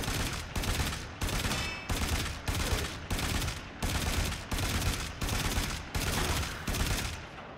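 Rapid gunfire from the video game Warframe comes in about eleven evenly spaced loud bursts, each a dense volley of shots, repeating steadily with no talk.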